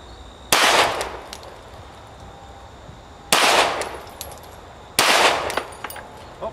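Three loud, sharp Glock 19 pistol shots fired at a turkey target from five yards outdoors, spaced a few seconds apart, each with a brief echoing decay.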